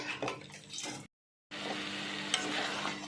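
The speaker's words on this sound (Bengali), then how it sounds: "ওই মশলার সঙ্গে কিন্তু এই চিকেনের টুকরোগুলো দিয়ে দিচ্ছি, দিয়ে এবার ভালো করে আবার নাড়াচাড়া করে নিচ্ছি।" Chicken pieces turned through spice masala in a pan, close scraping and stirring with a soft sizzle, cut by a brief silent gap before the stirring resumes, no voices.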